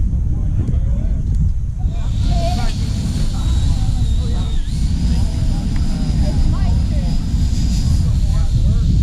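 Freewing Yak-130 RC model jet on a touchy takeoff, a steady high ducted-fan whine rising over loud wind and outdoor noise, with people talking nearby.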